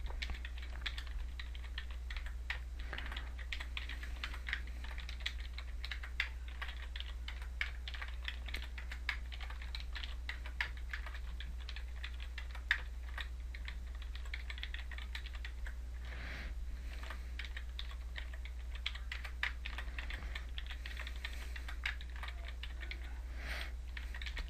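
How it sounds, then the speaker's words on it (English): Steady, fairly quiet clatter of keystrokes on a computer keyboard as month names are typed into an Excel formula, continuous and close over a low constant hum, with no talking. "I'll type the rest of the 12 months of the year."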